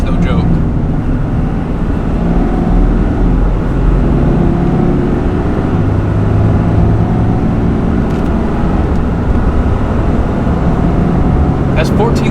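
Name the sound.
Ford F350 and RAM 3500 diesel trucks accelerating in first gear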